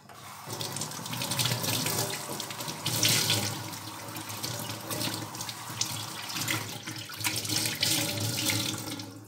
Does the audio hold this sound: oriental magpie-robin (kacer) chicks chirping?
no